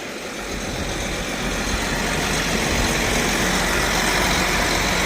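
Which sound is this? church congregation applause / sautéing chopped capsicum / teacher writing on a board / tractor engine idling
tractor engine idling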